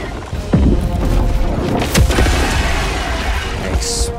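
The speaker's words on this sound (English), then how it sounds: "Explosion." A booming explosion in Helldivers 2 bursts loudly with crackling debris and rumble, a second blast following soon after amid dense noisy effects.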